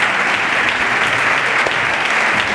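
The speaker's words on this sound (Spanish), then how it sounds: "os voy a pedir un fuerte aplauso para ellos dos" Loud, dense applause from a conference audience at founding sessions in Villamartín, an even roar of many hands clapping without pause from start to finish.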